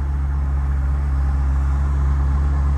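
A 2003 Ferrari 360 Spider's engine running steadily with a deep, even rumble and strong low hum, loud and close, holding one constant tone without revving, with no talking.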